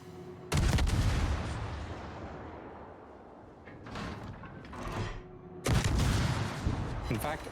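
Omaha-class light cruiser firing high-explosive shells in World of Warships, with two loud booming salvos rolling out at either end and a quieter rumbling stretch between them.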